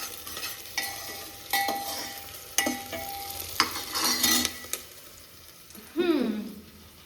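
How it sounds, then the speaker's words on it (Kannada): Ground spice paste frying in a pan for biryani, with a steady sizzle, a few scrapes and knocks of a utensil stirring, and a brief louder hiss near the end as more goes in. "ಸ್ವಲ್ಪ ಪೇಸ್ಟ್ ಮಾಡಿದ್ವಲ್ಲ ಅದನ್ನು ಹಾಕೊತೀನಿ. ಇದನ್ನು ಸ್ವಲ್ಪ ಫ್ರೈ ಆಗಲಿ."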